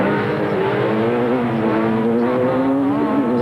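Rally cars on a super special stage at the 1997 Rally Australia at Langley Park, a Skoda Felicia 1.6 and a Seat Ibiza, their engines loud and close, climbing and revving steadily with no voices.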